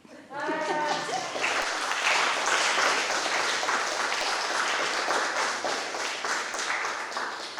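After a brief voice at the start, an audience at a poetry reading in the Everyone has a Voice series breaks into loud, sustained applause, a thick continuous patter of many hands that holds steady and eases slightly toward the end.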